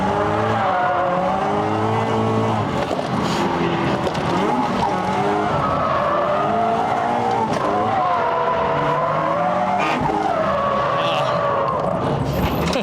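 A Toyota GT-86 fitted with individual throttle bodies accelerates hard on a race track, its engine revving high and rising and falling through the gears, loud and continuous with brief tire squeal.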